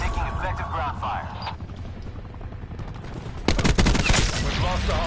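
Rapid bursts of automatic gunfire and loud shots in the online shooter Call of Duty Black Ops 4, dense and close over game radio chatter announcing the battle status.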